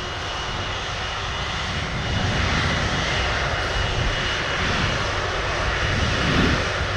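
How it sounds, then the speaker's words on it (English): Aircraft engine at Manchester Airport: a loud, steady roar that holds for the whole stretch and swells slightly partway through, with no voices. "Aircraft sound is excellent."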